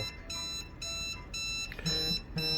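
A Xiaomi Mijia Zigbee Multifunction Gateway version 3 sounds its alarm after a sensor trigger: repeated electronic beeping bursts in a steady on-off rhythm, fairly loud and close, with no talking.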